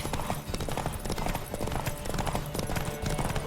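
Rapid clip-clop of horse hooves amid a busy, dense soundscape in the video game The Witcher 3: Wild Hunt, continuous and fairly loud throughout.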